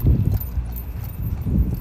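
A horse trots on a lunge line, its hooves beating a steady, rhythmic clip-clop on the ground close by, with no voices.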